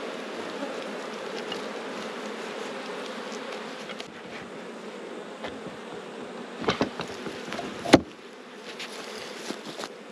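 Honey bees buzz steadily throughout a hive brood inspection, a dense close drone with a few louder bumps and handling knocks near the end; no one speaks.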